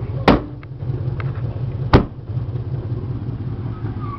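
Loud exhaust of an idling Chevy Caprice Classic station wagon engine, a steady low rumbling pulse up close, broken by two sharp clicks or knocks.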